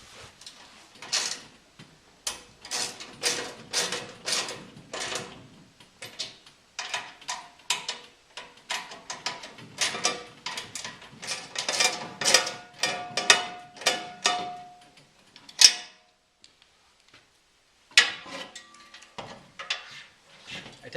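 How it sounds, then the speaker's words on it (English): A hand tool tightens the mount bolts on a Jeep JK side rack in repeated bursts of close, dry ratcheting clicks, with short pauses and a final few clicks after a brief silence. "I tightened up all the bolts on the JK side rack and reinstalled it"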